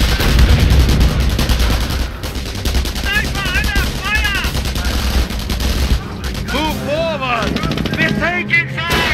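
Dense World War II gunfire in a real-time strategy battle, rapid overlapping rifle and machine-gun bursts rattling continuously with distant booms, under shouted voices and chatter throughout.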